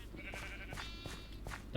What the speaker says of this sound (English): Another loud cow going by.